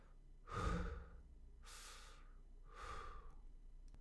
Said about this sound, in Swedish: Vi börjar med ett par vanliga lugna andetag som vi andas i vila.